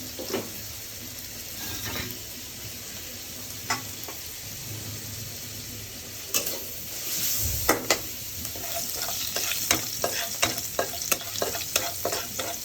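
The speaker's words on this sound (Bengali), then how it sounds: "তেলটা গরম হয়ে গেছে, এখন এই পর্যায়ে কটা জিরা দিয়ে দিলাম।" Cumin seeds frying in hot oil in a home kitchen, a steady soft sizzle with scattered stirring clicks and scrapes that grow busier and louder toward the end, with no talking.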